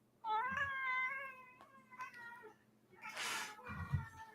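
Pet cat meowing, a long drawn-out meow close up, then brief rustling and a softer second call, fairly quiet overall.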